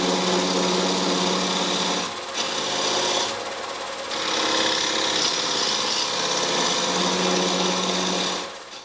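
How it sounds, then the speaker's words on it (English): A lathe turns a dyed eggshell bracelet blank, a steady loud whirring scrape of the tool cutting the spinning material, with brief dips in intensity as the cut eases and resumes, no talking. "This material is actually turning beautifully."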